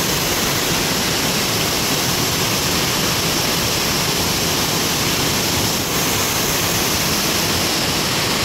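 Heavy rain pours near forcefully flowing waterfalls at Vagamon, a dense, loud, unbroken roaring wash of water with no pauses.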